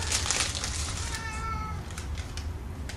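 A cat meows once, close and clear, as a drawn-out call over faint workshop handling noises in a room where a rifle muzzle device is being worked on.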